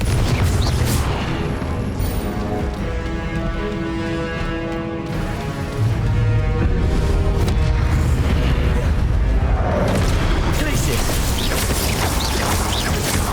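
Confringo fire spells burst repeatedly in Hogwarts Legacy combat on the Switch, loud booming blasts layered over a dense, continuous wash of game music and effects.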